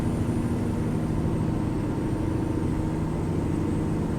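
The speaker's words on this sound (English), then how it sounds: "I think we have the Caterpillar engine in this Peterbilt" A Caterpillar diesel engine in a Peterbilt truck in American Truck Simulator, a steady loud low rumble that drones on without a break.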